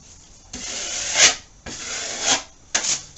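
Excess drywall compound is scraped off a wall in three long, rasping strokes, each swelling louder toward its end, close up with no talk.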